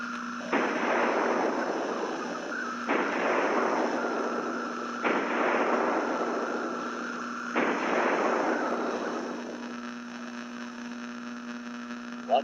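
Artillery guns in a War of the Worlds drama fire four loud, booming blasts spaced about two seconds apart, each followed by a rolling decay, over a steady electrical hum.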